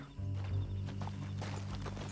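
A horse gallops in Red Dead Redemption 2: quick rhythmic hoofbeats thud steadily over a low rumbling background.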